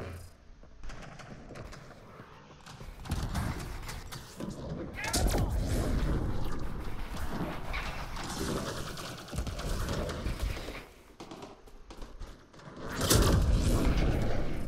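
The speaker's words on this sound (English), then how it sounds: "Explosions." Repeated booming explosions from the video game Apex Legends, deep thuds and rumbling blasts rising and falling over about fifteen seconds, with some game voices mixed in.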